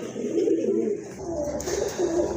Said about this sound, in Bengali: একজোড়া কবুতর ডাক দেখান